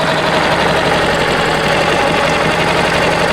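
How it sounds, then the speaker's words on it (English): A Yamaha outboard engine idles cold with a steady, loud, close mechanical drone and faint knocking pulse, unbroken throughout with no talking. "Idling pretty nice now."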